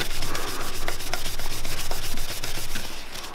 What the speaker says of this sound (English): with the clean rag, we're just going to buff turning the lathe by hand as we go